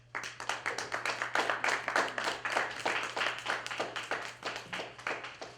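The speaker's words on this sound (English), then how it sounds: "one more round of applause for Mel" Audience applause at a SheEO vs CEO masterclass for someone speaker: a room of hands clapping in a dense, steady patter, fairly near and sustained throughout, with a low steady hum underneath.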